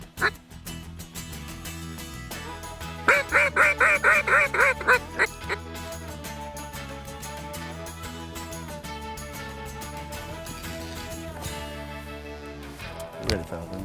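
A wild mallard duck quacks in a quick run of calls during a waterfowl hunt, heard over a steady background wash.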